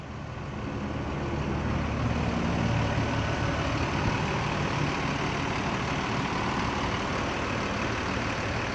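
Palala bus of the Duta Budaya Basuri line roars steadily as it climbs Sitinjau Lauik, a loud, continuous heavy engine drone rising in the first second and then holding strong throughout with no talk.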